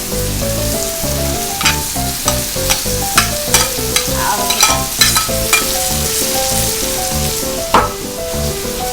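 Loud stir-frying of broccoli and vegetables for chop suey: constant sizzling in a hot pan with repeated scraping strokes of a spatula, close and prominent, while music plays underneath and no one speaks.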